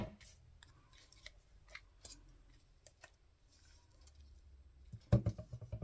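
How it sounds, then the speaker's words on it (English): Scissors snipping leaves off a paper card element, a series of crisp close snips and small clicks spaced irregularly, ending in a louder burst of handling noise. "I think what I might do is cut those leaves off and see if that makes a difference."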